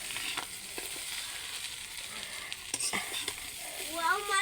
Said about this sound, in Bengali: আমি লাল লাল করে গোশ ভাজছি